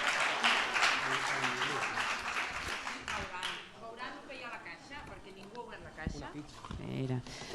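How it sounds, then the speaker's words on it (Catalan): A school gala audience applauds a secondary-school short-film award winner, clapping loudest at the start, then thinning under cheers and overlapping voices. "Un fort aplaudiment per aquest segon millor clipmetratge de secundària"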